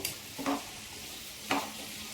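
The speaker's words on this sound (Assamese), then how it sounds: "আলুগুটি আৰু চয়াবিন ভাজিছোঁ।" Baby potatoes and soybean fry with turmeric and salt under a faint, even sizzle. Two brief scraping stirs break in, close but quiet, with no voices.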